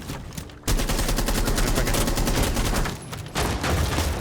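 Rapid automatic assault rifle fire in Rainbow Six Siege, loud sustained bursts with a brief pause before firing resumes.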